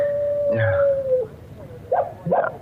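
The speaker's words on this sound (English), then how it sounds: "The dog again." A dog howls in one long sustained tone that fades out, followed by a couple of shorter yelping howls, heard fairly close in a quiet room.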